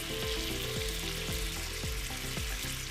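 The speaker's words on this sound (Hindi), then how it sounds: "चिकन हमारी फ्राई हो गई है अदरक लहसुन के साथ" Chicken with ginger garlic paste sizzles steadily in a hot pan, with a constant crackling fry and occasional scraping stirs close by.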